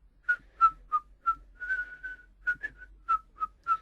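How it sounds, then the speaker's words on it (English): A man whistles very softly in a quiet setting, a series of short, clean tones with a couple of longer held notes in a gentle, uneven tune, close and alone with no talk. "He whistled very softly."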